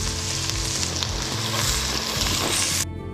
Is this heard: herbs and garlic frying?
yes